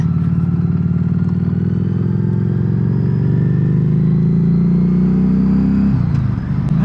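Riding a Harley Davidson Street XG500 motorcycle: a loud, steady engine drone close up with traffic noise around, holding level for several seconds before a brief dip and rumble near the end.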